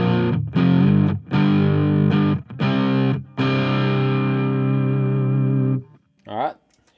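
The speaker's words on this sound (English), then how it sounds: "let's put on some top secret OD." An electric guitar plays sustained overdriven chords through an overdrive pedal into a Quilter Interblock 45 amp. A handful of choppy strums give way to a long ringing chord, then a short higher phrase, loud and close.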